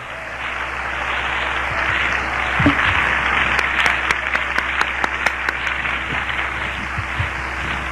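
A church congregation claps together at an evangelistic service, loud sustained applause with a few sharper, distinct claps standing out toward the end, and a faint hum beneath.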